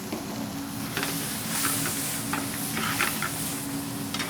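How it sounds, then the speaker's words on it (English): Cauliflower tossed with spices and turmeric in a pan, a continuous close sizzle under brushing, scraping stirs at a moderate level, with no talking. "Give that a good stir."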